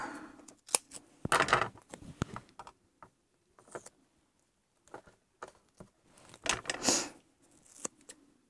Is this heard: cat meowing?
no